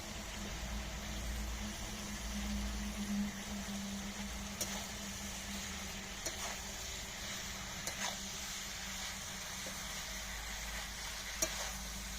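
Spinach going into a pan of spiced fish head stew, a steady close sizzle of frying with soft stirring scrapes and a few brief clicks running throughout.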